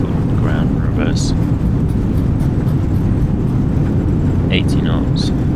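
Full ground reverse thrust from an airliner landing at Innsbruck in Microsoft Flight Simulator, a broad, steady roar that stays loud throughout while a voice talks over it.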